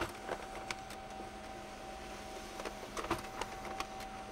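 A quiet office printer feeding and printing sheets, a low steady mechanical hum with soft clicks and brief paper-handling ticks spaced through the clip, with no talking.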